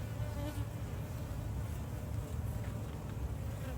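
A steady, close drone of many honeybees fills a beehive inspection, the buzzing constant and even with faint handling noise beneath.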